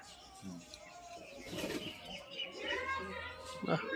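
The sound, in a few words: pigeons cooing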